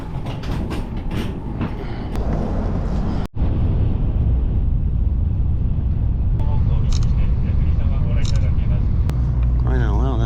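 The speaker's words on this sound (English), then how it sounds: "on the bullet train, and it is moving like an airplane cruise." A steady, smooth rumble of a fast train in motion runs throughout, with a person talking over the constant hum.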